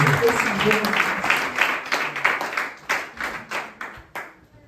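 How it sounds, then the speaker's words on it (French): A church congregation claps loudly during a sermon, a fast, uneven burst of many hands that thins toward the end into a few separate claps before fading out. "Applaudissons très fort pour la gloire de Jésus."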